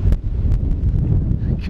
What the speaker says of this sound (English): Still getting some wind on that microphone,